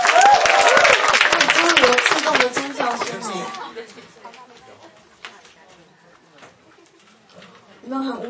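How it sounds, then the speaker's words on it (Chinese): Applause from a small audience at an intimate concert, clapping loud at first then thinning out and fading, with a voice speaking over it near the end. "掌声鼓励"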